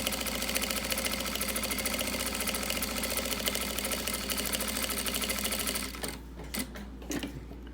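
A sewing machine stitches bias binding on a small fabric pouch in a rapid, steady mechanical rattle, close and loud, that stops near the end, leaving brief handling clicks.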